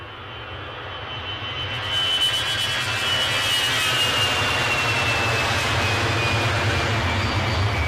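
A jet aircraft departing Edinburgh airport on an icy day, a steady loud engine roar with a high whine that swells after the first couple of seconds and then holds, heard from a distance with no voices.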